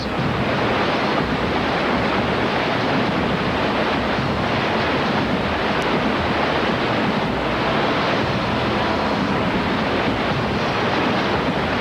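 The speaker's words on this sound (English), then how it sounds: "But the rapids are relentless." Rapids on a river where a kayaker is caught rush in a dense, steady roar of churning whitewater. The sound stays loud and close, broadband and unbroken, with no voices.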